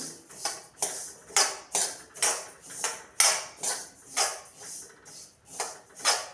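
Whole spices including fenugreek seeds and sesame are stirred in a hot kadhai over a low flame, giving a steady rhythmic scraping and rattling, about two strokes a second, close and fairly quiet with no talk.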